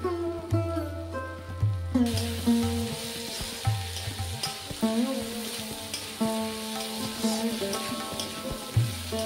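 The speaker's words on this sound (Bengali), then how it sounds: "এইভাবে 10 থেকে 15 মিনিট সবজিগুলোকে খুব ভালো করে ভেজে নেব।" Mixed vegetables with eggplant fry in a pan, a steady close sizzle broken by repeated stirring scrapes and clatters throughout.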